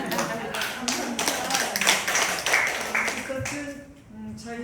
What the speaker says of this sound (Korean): 박수 받으겠습니다